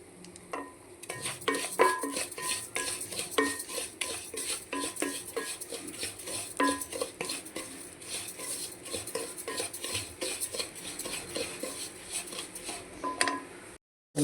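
A spoon stirs wheat rava roasting in ghee in a pan, making repeated close metallic scrapes and clinks in an uneven rhythm over a faint sizzle, with no voices.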